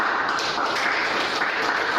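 Brief burst of congregation applause during a Sunday church service, a close, dense patter of clapping hands with no speech over it.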